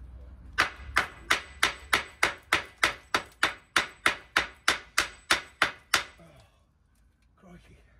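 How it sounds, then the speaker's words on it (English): Hammer blows on a rusty baseplate knock off caked-on scale and rust, about fifteen sharp metallic strikes in a steady rapid rhythm, close and loud, then a quiet pause with faint scraping. "Get the hammer."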